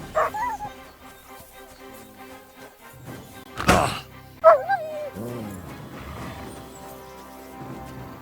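A dog in a medieval village setting in Kingdom Come Deliverance 2 gives a few short yips and barks, with a whimpering whine partway through, fairly close, while someone speaks over it.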